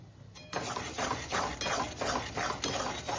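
Gram flour batter for Mysore pak being stirred continuously in sugar syrup in a pan, a close, steady run of rhythmic scraping and clinking strokes repeating about twice a second.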